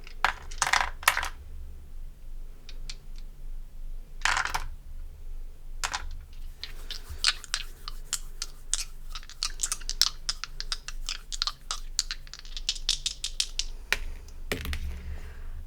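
Dice clatter and roll during a tarot reading, with sharp scattered clicks and taps, a few louder knocks and a dense rattling stretch in the middle, close and with no talking.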